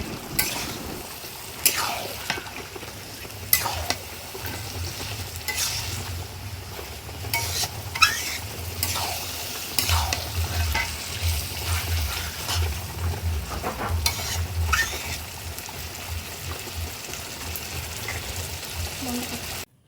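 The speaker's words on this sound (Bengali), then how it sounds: "নেড়ে দিচ্ছি মশলার সাথে ভালোভাবে, যাতে মিশে যায়।" Chicken pieces stirred with spices in a frying pan give an ongoing low sizzle broken by repeated spatula scrapes and knocks against the pan, close and moderately loud throughout.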